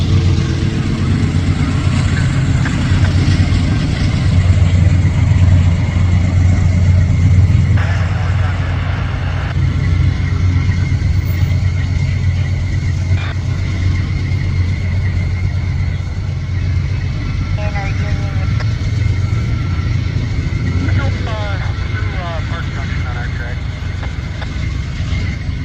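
Union Pacific 8955 locomotive on a train in St Paul, Minnesota, gives a steady, loud, low diesel rumble that runs throughout with little change.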